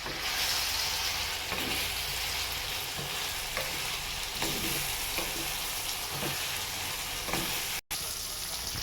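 Ivy gourd and tomato chutney frying in a pan, a loud, dense, steady sizzle with periodic spatula scrapes as it is stirred, close throughout with a momentary cut near the end.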